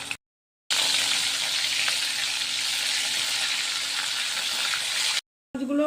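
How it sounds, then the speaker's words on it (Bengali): Small chuno fish fry in batches in hot oil in a pan: a continuous, even sizzle and crackle for most of the clip, bounded by short silent gaps, with no speech. "আমি প্রথমে মাছগুলোকে অল্প অল্প করে ভেজে নিচ্ছি"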